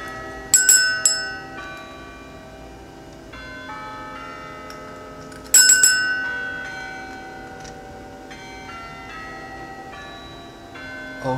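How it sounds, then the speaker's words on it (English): A dog rings a small bell twice, each strike giving a bright clang that fades in a long metallic ring, with quiet pauses between the rings. "Gypsy, ring the bell for world peace."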